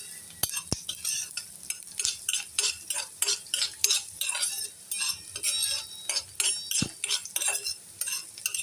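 Chopped onion sautéed and stirred in a pan, with steady sizzling under repeated scraping strokes of a spatula against the metal, plus a few sharp clinks, close and fairly loud.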